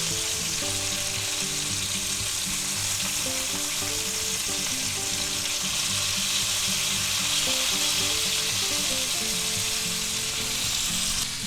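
Thick boneless pork chops fry in butter in a cast iron skillet with a loud, continuous close sizzle, while steady music plays alongside and nobody speaks.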